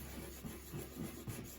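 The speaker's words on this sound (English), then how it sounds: "I'm literally just going to give it a very fine sanding" Fine hand sanding on an oak-effect laminate table surface, a soft, close rasping rub repeating in short back-and-forth strokes at a low, even level.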